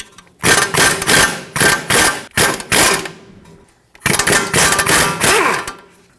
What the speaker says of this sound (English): Use a 17mm socket on one side to hold the mounting nut, and then the 15mm bolt removed from the other side with your tool.